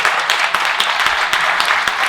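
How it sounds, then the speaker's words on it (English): Brief burst of audience applause at a startup pitching competition, a dense crackle of many hands clapping at steady loudness throughout, without voices. "Very quick round of applause"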